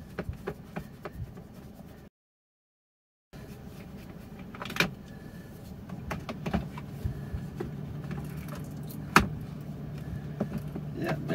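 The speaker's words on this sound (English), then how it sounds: "I definitely got the car running outside" A Subaru Tribeca idling outside on a warm day, a steady low engine hum under scattered clicks and light knocks of work on its dash display, with a brief dropout early on.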